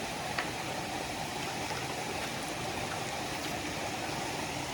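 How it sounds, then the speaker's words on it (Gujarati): A river flowing across the route of the Girnar Lili Parikrama pilgrimage near Junagadh, where pilgrims wade across, gives a steady, close broadband rush of moving water throughout with no talk. "નદી આવી છે બધા એક પછી એક પાર કરે છે નદીને"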